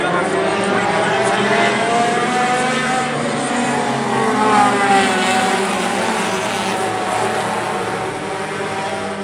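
Race cars roar loudly through turn four at the green flag on the Kalamazoo Speedway oval, a dense sustained engine drone with shifting pitch throughout, a voice talking over it.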